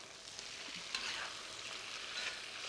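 Chili paste sauce bubbles and sizzles in a frying pan while being stirred, making a quiet, continuous hiss with faint scraping swells.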